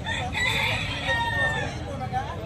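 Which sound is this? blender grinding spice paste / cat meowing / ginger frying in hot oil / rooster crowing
rooster crowing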